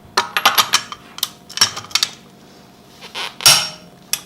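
A torque wrench tightening a Tesla Model 3 wheel lug nut gives a series of sharp, close clicks and ratcheting taps in irregular bursts, with quiet gaps between them and no talking.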